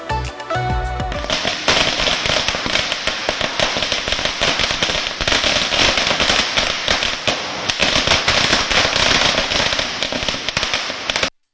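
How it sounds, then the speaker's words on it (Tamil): Firecrackers burst nonstop during Diwali celebrations in Chennai, a dense, loud barrage of overlapping cracks and pops lasting over eleven seconds before cutting off abruptly. "சிறுவர்கள் முதல் பெரியவர்கள் வரை குடும்பம் குடும்பமாக பட்டாசு வெடித்து தீபாவளி திருநாளை உற்சாகமாக கொண்டாடி வருகின்றனர்"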